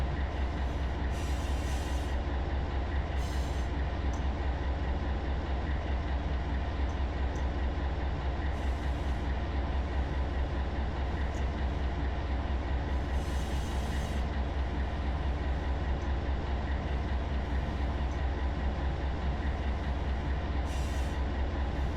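Freight train of containers in the Run 8 Train Simulator video game, picking up speed under dynamic braking: a steady, continuous deep rumble of rolling stock with brief higher squeals from the wheels, no talk.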